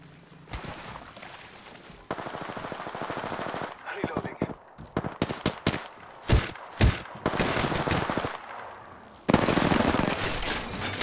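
Gunfire in Apex Legends: bursts of automatic weapon fire, sharp single shots and sustained rattling volleys, loud and close, with brief gaps between them and a voice speaking at times.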